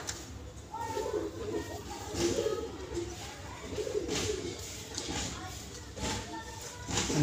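Pet pigeons coo repeatedly in soft rising-falling phrases, fairly faint and nearby, amid low background noise and light shuffling.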